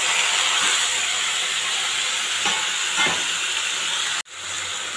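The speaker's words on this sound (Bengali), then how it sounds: "এখন কেটে রাখা কচু, আলু, বেগুন দিয়ে দিলাম।" Cut taro, potato and eggplant dropped into a hot pan of fried onion and chilli for a Bengali mustard hilsa curry, giving a loud, steady hissing sizzle that cuts off abruptly near the end.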